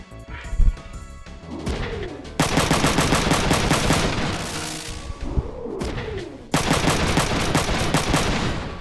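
Rapid machine gun fire from the Front Mission 3 video game, with a short mechanical lead-in followed by two long, loud sustained bursts of dense repeated shots separated by a brief pause.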